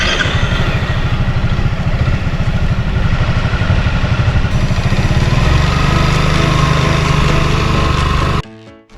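Honda Forza 350 scooter, fitted with OKD REV II shocks, ridden in loops nearby. Its engine gives a steady, loud, droning hum for several seconds, then cuts off abruptly near the end.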